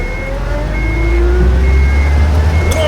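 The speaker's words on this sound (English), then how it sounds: "Crap, they started the engine." Truck engine starting up in the game Unmetal, a loud low rumble that settles into a steady idle and fills the whole moment, with faint beeping tones above.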